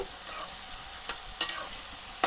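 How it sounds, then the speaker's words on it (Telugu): Onions and ridge gourd stirred in a frying pan, a soft sizzle with a few brief scraping clacks of the spoon, close and fairly quiet, no voices. "ఆనియన్స్ అవన్నీ మంచిగా కింద ఉన్నాయి కాబట్టి అటు ఇటు కలుపుకోవాలి"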